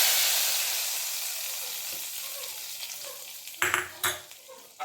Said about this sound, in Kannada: ಈಗ ಸ್ಟವ್ ಮೇಲೆ ಸಾರಿಟ್ಟಿದ್ದೀವಲ್ಲ, ಒಗ್ಗರಣೆ ಹಾಕ್ಬಿಡೋಣ.